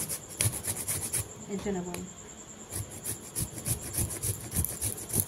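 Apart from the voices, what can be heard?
grating papaya on a grater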